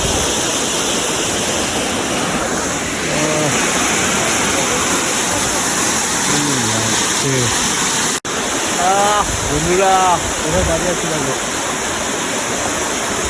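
A waterfall at a Ghatsila beauty spot gives off a steady, broad rushing roar that never lets up, while a person talks close by over it.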